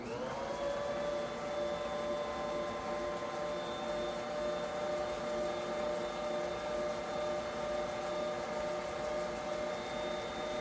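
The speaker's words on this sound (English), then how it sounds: "I'm gonna go ahead and mix it up" A Bosch stand mixer beats batter with an egg in a steady, continuous motor whine with a constant pitch and even loudness, running close and alone without pauses.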